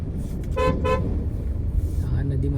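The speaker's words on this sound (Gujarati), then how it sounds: "ખૂબ બધું ટ્રાફિક જોવા મળશે કારણ કે સાંજનો ટાઈમ છે પીક અવર" Evening peak-hour road traffic on a city route with two short car horn toots standing out over a steady, dense rumble of passing vehicles.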